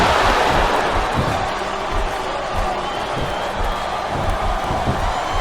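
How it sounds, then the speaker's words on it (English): A virtual arena crowd in the WWE SmackDown vs Raw 2007 wrestling game keeps up a loud, steady roar of cheering throughout, with faint commentary-style voices underneath. "I think these superstars are getting some feedback from the crowd, JR."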